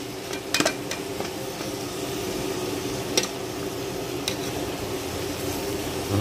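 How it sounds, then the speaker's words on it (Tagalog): Garlic and onion sautéing in a pan give a steady soft sizzle close by, broken by a few sharp clinks and taps of a utensil against the cookware. "Gigisa muna natin yan ng ilang minuto, mga kasunoy."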